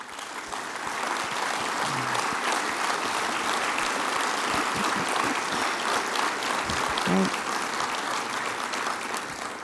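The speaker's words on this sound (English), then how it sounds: "Let's give them a round of applause." Large luncheon audience at an engineering society investiture applauding standing distinguished fellows, a sustained, even roar of clapping across the whole stretch, moderately distant.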